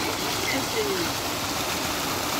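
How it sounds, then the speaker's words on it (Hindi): Fresh bore water rushes and gurgles in a constant steady flow in a date palm orchard, close by and fairly loud, with no pauses. "यहाँ ताज़ा ताज़ा पानी है, ये देखें फ्रेश पानी है बिल्कुल"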